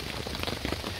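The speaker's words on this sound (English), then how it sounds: "it's been raining for at least 12 hours now" Rain patters steadily on a camping tarp in a dense, even drumming of many close drops, with no voices present.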